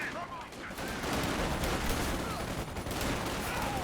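Machine gun fire in a World War II strategy video game match: rapid, dense bursts of gunfire mixed with other battle noise, continuous and fairly loud across the whole stretch.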